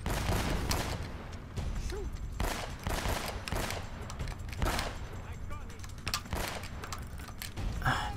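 Gunfire from the video game Uncharted: Drake's Fortune during a church fight, with dense bursts and rattling volleys that run steadily throughout, loud and busy under a mix of game effects.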